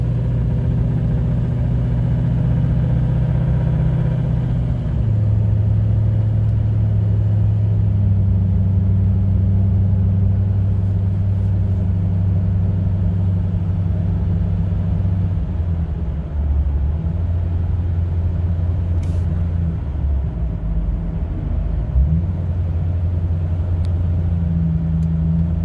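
2011 Chevrolet Silverado 2500HD 4WD with a 6.6L Duramax diesel at 200K accelerating through the gears on a highway, a loud, steady cabin rumble whose engine note climbs and drops at each shift.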